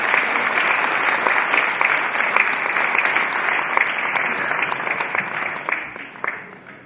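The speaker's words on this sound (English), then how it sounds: "Clap your hands and receive them." Sustained, dense applause from a large congregation at a home-going funeral service, loud and steady for several seconds before tapering slightly at the end.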